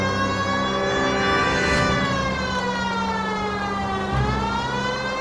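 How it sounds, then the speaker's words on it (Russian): Police car siren in the video game L.A. Noire, a loud continuous wail rising and falling in pitch over a steady engine rumble, with a sweep near the end. "Сирена мне нравится."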